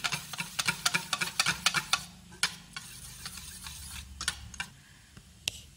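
Pasta ingredients being stirred in a bowl, a quick series of close scraping and clinking strokes in an uneven rhythm, thinning out after a couple of seconds into sparser taps, fairly quiet with no talking.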